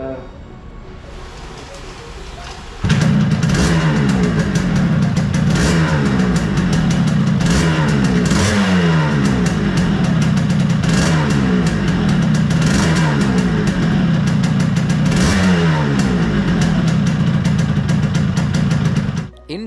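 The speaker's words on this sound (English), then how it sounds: "the engine is picking up revs much cleanly" A 1997 Yamaha RXG motorcycle engine, freshly re-jetted with a slightly leaner mixture, starts up and then holds a loud, steady close-up run with repeated rhythmic rev swells for about seventeen seconds before cutting off.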